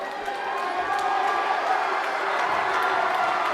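A basketball crowd at a Yuba City at Bella Vista senior night game roars steadily as a player checks in, sustained cheering filling the gym from start to finish with a busy, loud wash of voices.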